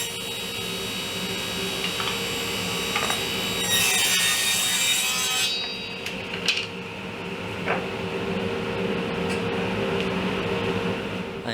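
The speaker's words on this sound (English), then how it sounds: "Now I'm going to cut a 2-inch strip" A saw cuts a 2-inch strip of 3/4-inch wood, a steady grinding rasp near the start that stops partway, followed by a few scattered knocks and handling noises over a low background hum.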